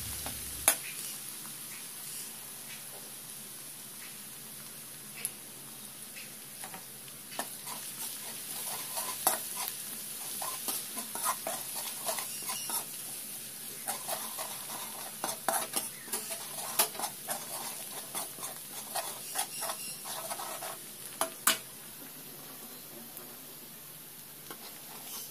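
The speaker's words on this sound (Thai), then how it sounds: "จะทำกระเทียมกรอบไว้โรยบนผัดก่อนนะคะ" Garlic fries in oil on low heat to make crispy garlic, giving a continuous soft sizzle with frequent stirring scrapes and light utensil clinks against the pan. No one speaks.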